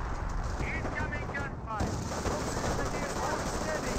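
Bursts of MP40 submachine gun fire in a Company of Heroes 1 battle, rapid crackling shots layered over a dense, steady din of combat noise.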